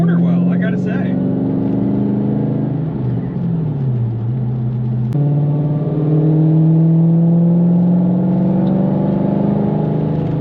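A Lexus GS fitted with a Curt tow package drives over gravel, a loud continuous engine drone with shifting pitch, dipping and then rising again, over a steady rumble of tyres close by.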